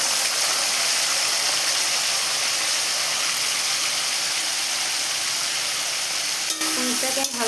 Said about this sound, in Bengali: এবার ওই তেলেতে আমি পনিরগুলো দিয়ে দেবো ভাজার জন্য।